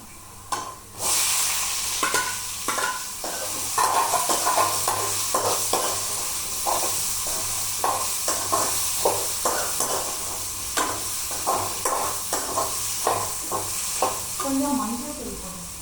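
Steady sizzle of tuber pieces frying in a pan, with repeated scraping and stirring strokes at a regular rhythm; no talking.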